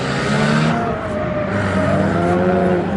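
A drift car spins out at a speedway, its engine roaring and tires squealing in a continuous loud, close wash of noise.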